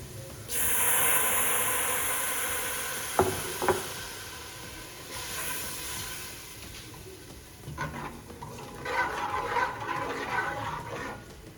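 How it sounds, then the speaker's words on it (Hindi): A glass of water hits a hot pan of light-browned onions for a ghiya gosht curry, giving a loud, steady sizzling hiss with sputtering bursts, heard alone. "अब आपने इसके अंदर डाल देना 1 गिलास पानी।"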